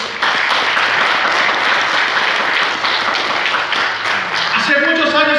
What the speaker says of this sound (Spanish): Aplaudo al Señor.